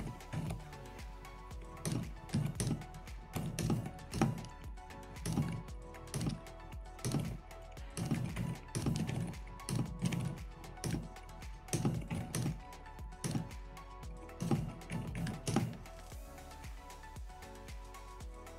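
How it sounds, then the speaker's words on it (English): Keys clatter in steady bursts on a modded mechanical keyboard fitted with new switches and keycaps, sounding fairly quiet overall, with a space bar that still lands with a slightly heavier clunk among the clicks. "There's still a decent amount of clunk to the space bar, but overall it sounds pretty quiet."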